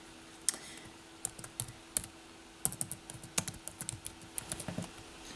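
Keys clatter on a computer keyboard as account information is typed into an app, the irregular clicks arriving in short quick bursts at close range with no talking.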